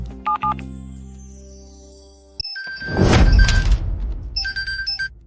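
A telephone being dialed for a call: a few short electronic keypad beeps at the start, then a sustained tone, followed by a sudden clattering burst and more beeping.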